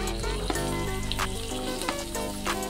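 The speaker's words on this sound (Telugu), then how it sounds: "కొంచెం ఫ్రై అయిన తర్వాత ఇప్పుడు ఇందులో క్యారెట్, క్యాప్సికమ్, ఆనియన్స్ మొత్తం అన్ని ఇందులో యాడ్ చేసుకోవాలి 1 by 1." Carrot, capsicum and onions frying in a pan while making rice atta pasta, a steady close sizzle with a few brief clinks and stirring noises over it, plus faint traces of music or voice.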